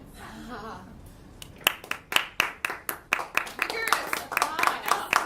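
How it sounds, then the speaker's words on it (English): Vigorous clapping from an audience after a talk on honeysuckle plots, starting as a few scattered claps and quickly building into steady, fairly close applause with a voice briefly audible at the start. "Vigorous applause."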